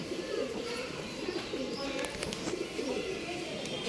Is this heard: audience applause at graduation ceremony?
no